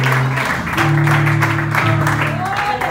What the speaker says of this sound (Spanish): Denle un aplauso al Señor, gloria a Dios.